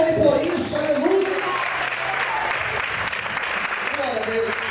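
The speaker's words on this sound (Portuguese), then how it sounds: "Você pode aplaudir a Ele por isso." Congregation applauding in church, sustained clapping across the room throughout, with a pastor's voice speaking over it.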